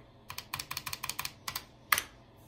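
Crisp, close clicks of keys pressed on an Apple //e computer keyboard, about a dozen quick taps in an uneven rhythm followed by one heavier keystroke.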